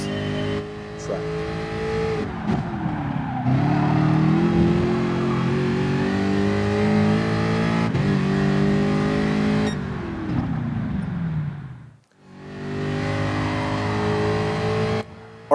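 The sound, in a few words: race car accelerating and braking, Gran Turismo Sport video game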